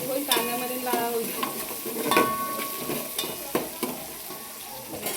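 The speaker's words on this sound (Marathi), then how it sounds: "कांदा पहिलं लसूण टाकलेली आहे" Onion and garlic fry in a pan with a steady close sizzle, broken by repeated scraping and stirring strokes of a spoon against the metal.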